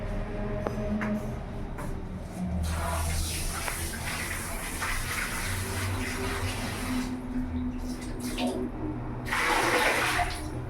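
Tap water runs over peeled green peas and chopped mushrooms being washed in a kitchen, pouring in strong bursts that start and stop, with a final surge near the end.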